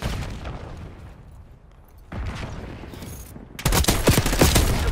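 Gunfire in Call of Duty, with scattered shots that build into dense bursts of rapid automatic fire and booms, loud and close at the end.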